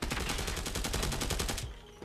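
Rapid automatic gunfire from the Hades gun in Call of Duty, a fast even stream of close, loud shots lasting under two seconds before abruptly stopping into a brief tail.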